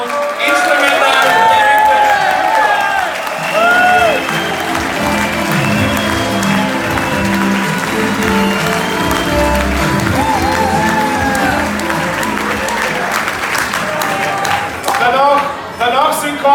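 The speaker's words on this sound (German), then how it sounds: "Ein großer Applaus für den Mr. Fahrrad alias Rudi Wolfgang und Instrumental." A ballroom crowd at a sports club ball claps and cheers loudly for a stage performer, a thick, steady wash of hands with shouts mixed in, tapering near the end as a voice cuts through.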